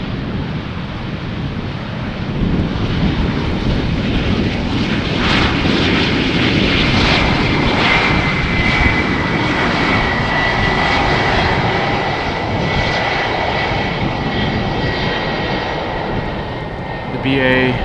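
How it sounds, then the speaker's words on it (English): A Boeing 777 airliner arriving at Amsterdam Schiphol Airport on a windy day roars steadily and loudly throughout, its engine drone sustained with a faint whine on top, mixed with gusty wind buffeting the microphone. "Not a moment too soon, because the 777 is already in the area."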